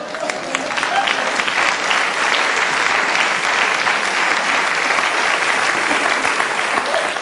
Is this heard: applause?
yes